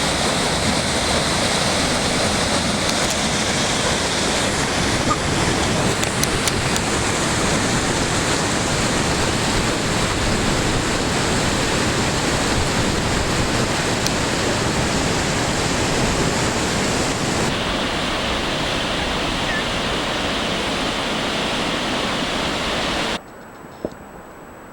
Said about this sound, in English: 2015 pounds of ice and mud and debris coming down the Niagara River.